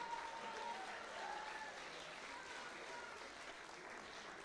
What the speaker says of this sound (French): s'il vous plaît, applaudissements quand même pour Martin et son équipe évidemment.